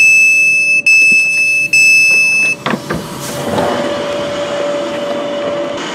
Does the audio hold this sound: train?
yes